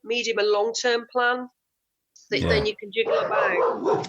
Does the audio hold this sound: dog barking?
yes